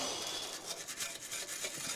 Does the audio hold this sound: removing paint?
yes